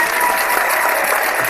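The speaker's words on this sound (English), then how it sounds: "thank you for that applause." Steady, loud applause from a crowd fills the whole short stretch, dense and even with no voices over it.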